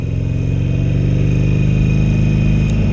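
A Harley-Davidson Iron 883 motorcycle engine runs with a loud, close, steady throbbing rumble that holds an even idle for three seconds, with no talking.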